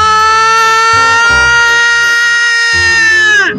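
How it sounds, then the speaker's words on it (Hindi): A siren sounded at a street show blares loud and close as a steady harmonic wail that holds its pitch, then slides downward and cuts off at the end. "ये आपने जो सायरन बजाया"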